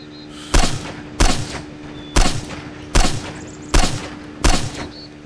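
Six loud, sharp gunshots fire at steady intervals of about three-quarters of a second over a low background hum, game weapon fire in the survival game Miscreated.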